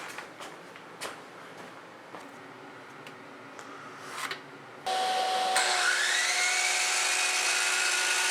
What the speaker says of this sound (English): I'll mark it on a blank riser and cut it at the miter saw.